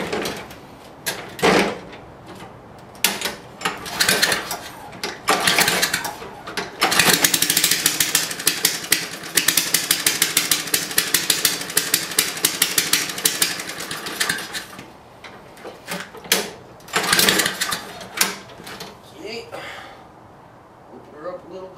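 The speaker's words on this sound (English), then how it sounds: "we're going to leave the muffler off, so it's going to be loud." A small engine with its muffler removed sputters and tries to catch, then runs loudly in a rapid, rough, rattling bark for several seconds before dying back to uneven bursts, with voices speaking nearby.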